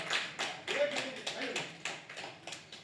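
An audience claps hands in a steady run of sharp, evenly spaced slaps at moderate loudness, with a voice briefly audible underneath.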